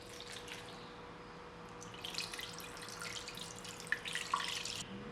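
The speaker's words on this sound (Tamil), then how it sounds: "இப்போ இந்த மசாலாவில் ஒரு 1 கப் அளவுக்கு தண்ணி ஆட் பண்ணி அதையும் இந்த குக்கரில் ஆட் பண்ணிக்கலாம்." Water poured from a cup into a mutton chops masala and then into a pressure cooker, a steady light trickle and splash with brighter dripping bursts toward the end, close by and with no talking.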